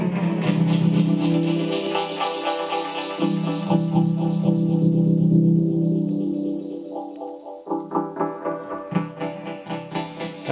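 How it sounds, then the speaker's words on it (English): Dub techno chords played through Ableton's Echo, a tape-style delay, sustaining with smeared repeats and rising, more rhythmic stabs near the end, loud and continuous with no voices. "the last versions of Ableton have a beautiful, beautiful tape-ish delay called simply echo"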